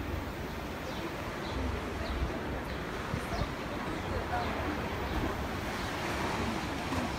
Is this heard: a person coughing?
no